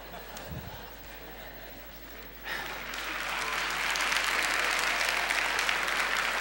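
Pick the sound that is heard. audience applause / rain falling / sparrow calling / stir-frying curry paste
audience applause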